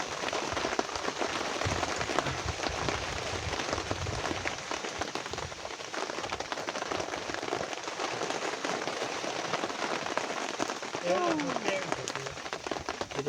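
Steady rain patters in a forest, a dense even hiss of drops on leaves and ground lasting throughout at moderate level, with faint voices underneath.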